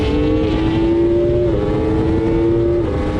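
A superbike engine in a racing video game revs hard under aggressive throttle. The loud, steady whine holds a sustained tone that steps up and down at a few throttle and gear changes.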